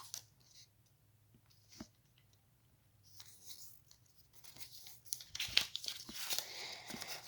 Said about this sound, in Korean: 이렇게 이 제일 면이 이 가운데로 가게 접어주세요